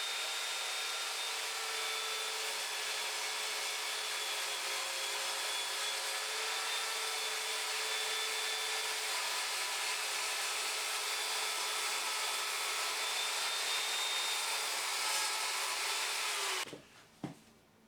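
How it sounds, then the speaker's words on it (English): Evolution Fury 3 sliding mitre saw cross cutting plywood, a loud steady motor whine that holds for about sixteen seconds before spinning down and stopping abruptly. "We're now going to cross cut a piece of plywood, and we'll see just how well it cuts that."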